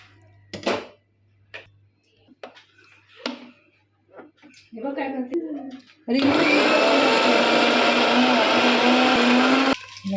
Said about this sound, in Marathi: सोल वाटून घेतेस ना पाणी टाकून जरा